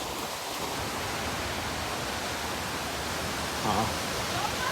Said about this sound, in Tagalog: Dito na kami sa waterfalls.